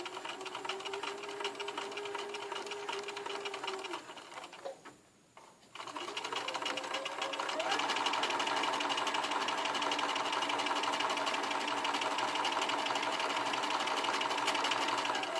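A sewing machine stitches a small patch pocket with a quarter-inch seam allowance, running steadily and close, briefly stopping for about a second before resuming at a louder, continuous hum.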